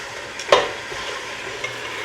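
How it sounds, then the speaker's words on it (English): A rump roast sears and browns in a hot pan, a steady close sizzle with one sharper clatter of stirring or turning partway through, and no talking. "these don't have to be perfectly seared. Nothing has to be perfectly anything. All right. Just get it browned."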